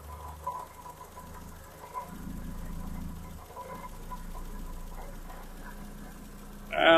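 Low, even idle of a classic car engine with twin carburettors under tuning, quiet and steady throughout, ending with a brief louder burst.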